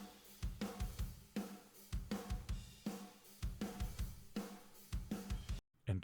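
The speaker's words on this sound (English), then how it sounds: "Today, I'm going to show you how I take simple drums that sound like this" Simple, unprocessed drum beat played as a steady loop of punchy kick and snare hits with brighter cymbal or hat strikes, loud and continuous, cutting out briefly just before the end.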